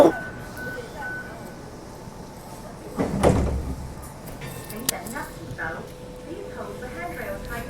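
Sliding doors of a Hong Kong MTR Light Rail Phase I train on Route 505 thud shut once, a loud broadband burst mid-clip over the low rumble of the carriage, with an onboard voice announcement around it.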